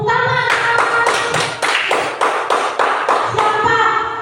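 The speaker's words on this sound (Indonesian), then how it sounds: "Tepuk tangan." A classroom group claps together after a presentation in an Indonesian lesson, a dense burst of rhythmic hand claps lasting several seconds with roughly regular pulses, close and loud.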